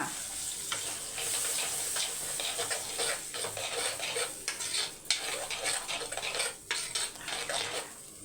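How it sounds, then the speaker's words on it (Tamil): Tomatoes go into half-fried onions for a spicy tamarind curry, stirred in a pan with a metal spoon. Steady sizzling sits under repeated scraping and clinking strokes, all fairly quiet and with no voices. "வெங்காயம் வந்து பாதி வதங்கிடுச்சு இப்போ தக்காளி சேர்த்துக்கலாம்"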